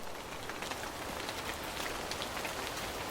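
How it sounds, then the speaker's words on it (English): Heavy rain pours down in a relentless, even hiss that fills the whole scene, dense and close, with no voices or other sounds breaking through. "the harshness of the rain immediately pressed down on them"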